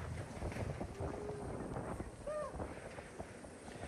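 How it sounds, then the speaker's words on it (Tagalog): Strong wind buffets the microphone at the foot of Mayon Volcano in the rain, a rough, fluctuating rumble and gusting roar across the whole clip, with faint indistinct voices in the background. "malakas talaga ang hangin"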